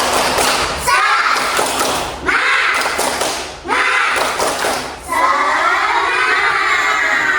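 Kindergarten children at an Islamic school in Tangerang shout a rhythmic clapping chant in unison, loud bursts of voices and claps broken by short pauses, close and energetic.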